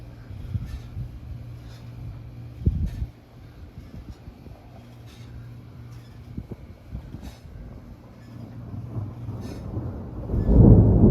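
Thunder from a monsoon storm rumbles low and steady, with a sharper crack near the start and a heavier roll building toward the end, heard amid wind and light background noise.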